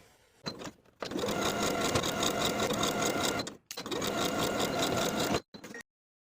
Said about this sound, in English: Then we'll edge stitch along that bottom fold all the way around to form the casing for the elastic.